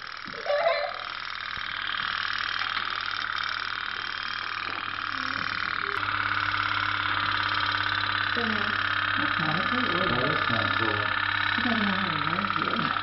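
Toy steam boats chug with a fast, steady putter throughout, while children and an adult talk over the sound.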